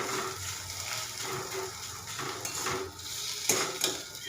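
Ground yardlong bean paste fries in mustard oil while being spread and stirred in the pan, mixing a low sizzle with repeated scraping and clattering of utensil against metal, louder clinks near the end.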